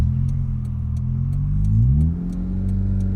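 The 1.1-litre engine of a Fiat Cinquecento Sporting hums steadily, then revs up with a rising pitch before easing back down, close and fairly loud.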